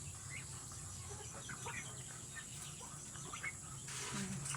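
Backyard chickens, including small Taiwanese birds, cluck and chatter while being fed; soft, scattered clucks sit over a faint, noisy outdoor background.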